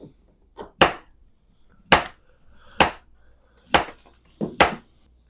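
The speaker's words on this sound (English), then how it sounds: "You want to cut this into 1/2-inch slices on an angle." Knife slicing a small yellow zucchini into angled half-inch pieces on a cutting board, giving six crisp, separate chops with gaps between them, each sharp knock close and alone with no talk over it.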